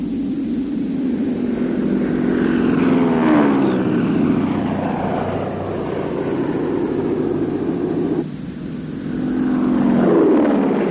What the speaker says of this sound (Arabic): أثناء محاولة سيباستيان تضليل الطائرة